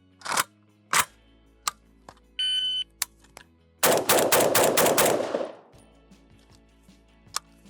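Gunfire from a modded AK rifle on a shooting range: a few sharp single shots, then a tight rapid string of loud reports with ringing decay, and a couple more isolated shots near the end, plus a brief electronic beep.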